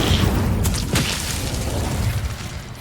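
A fire spell cast in Hogwarts Legacy: a loud, booming burst with a whooshing flare near the start, then a sustained, rumbling roar that fades slowly.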